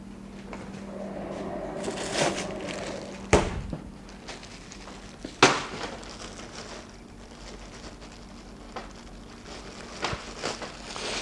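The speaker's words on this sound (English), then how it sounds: "And you just lightly put the ice over top of the fish so it's nice and evenly covered." Ice being spread over plastic-wrapped fresh fish, producing soft crackling and rustling with two sharp clattering bursts as ice drops, fairly close and quiet, with no talking.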